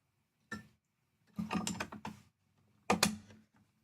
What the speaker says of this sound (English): Now I put the stitch plate back on.